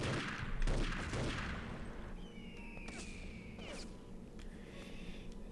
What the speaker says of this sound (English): Sniper shots surrounding Snow's feet, but still alive